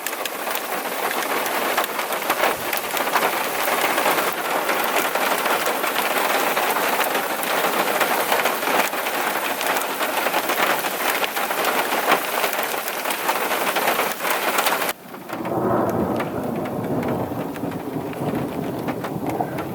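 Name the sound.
rain and thunder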